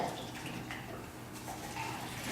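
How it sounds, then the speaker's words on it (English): Water is poured from a beaker into a cup, a soft steady splashing trickle heard close up for a couple of seconds with no voices. "Take the water from your beaker and pour it into the cup."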